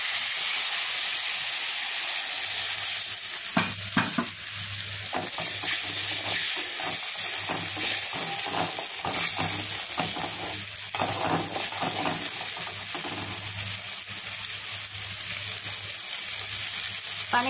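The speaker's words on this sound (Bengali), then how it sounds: "পানি দিয়ে দিলাম, পানিটাও ফুটে উঠেছে যেহেতু গরম পানি দিয়েছিলাম" Hot water poured onto spice paste frying in oil for a rohu fish head curry sets off a loud, steady sizzle and bubbling boil, with intermittent stirring scrapes across the pan.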